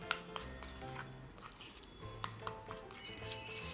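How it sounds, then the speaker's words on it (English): A turmeric, gram flour and orange juice face pack is stirred in a small bowl, giving soft scraping and clinking of a spoon against the dish, close and steady without speech. "mix it thoroughly, very smoothly"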